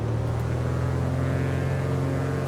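Piper Arrow III single-engine propeller aircraft in Microsoft Flight Simulator held at high throttle during a run-up test, a loud steady droning engine hum with no variation.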